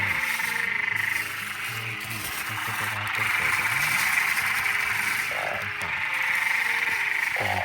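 Frogs and narrow-mouthed toads croak in a rain-soaked rice field during heavy rain, forming a dense, continuous chorus close by, with a person talking over it.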